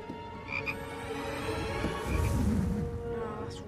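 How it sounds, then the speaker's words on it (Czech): A chocolate frog from a Harry Potter film croaks in a sustained, resonant call that swells and fades over a low background rumble. "když to otevřel, tak vyskočila taková žába"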